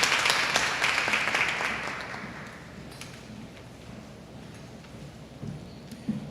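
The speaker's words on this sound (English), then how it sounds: "Let's give her a round of applause as she comes." Applause from an audience at a teachers' professional conference, a dense burst of clapping that gradually fades to scattered claps and quiet room noise.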